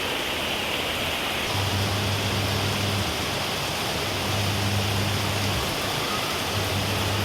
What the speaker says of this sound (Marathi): वाढला चांगलाच वाढलाय पाऊस